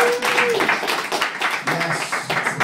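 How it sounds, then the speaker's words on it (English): Comedy club crowd claps for a stand-up comedian, a dense burst of hand claps with whoops and chatter mixed in, close and continuous. "Clap it up."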